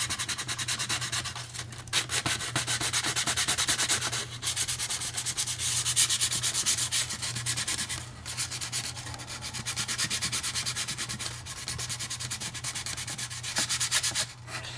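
Putty is sanded by hand off a model ship's secondary hull, a close, steady rasping scrub in repeated strokes with short pauses, alone without talk.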